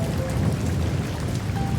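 Steady rain falls outdoors, a dense continuous wash of drops pattering throughout with a low rumbling undertone, fairly close and even, with no voices.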